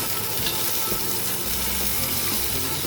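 Cherry tomatoes dropped into a pan of frying beef and small potatoes for a beef curry give a loud, close, continuous sizzle with some stirring movement and no talking.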